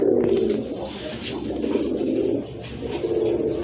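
A sky-blue Rajgolla pigeon gives a continuous, close, throaty coo that swells and dips with no pauses, with no voices around it.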